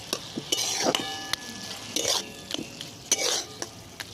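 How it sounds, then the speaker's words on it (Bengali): Red amaranth leaves with poppy seed fry in a pan while a spoon stirs and scrapes, soft sizzling broken by several sharp metal clinks and scrapes close by. "এবার ভালো করে নেড়ে চেড়ে নেব"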